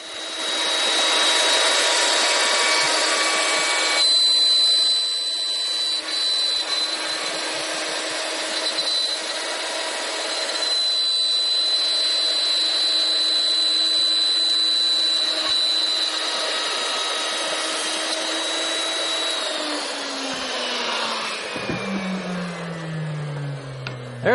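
A handheld router with a 1/4 inch bit and 7/16 guide, riding a circle jig, screams loudly and steadily while cutting a wooden circle, then spins down near the end.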